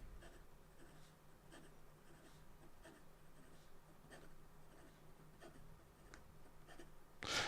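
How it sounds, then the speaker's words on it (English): Quick, light scratching of a Stilo & Stile Radius Settimo Radici fountain pen with an extra fine nib across paper, steady rapid strokes, quiet and close with no talking. "And then in regard to some fast writing"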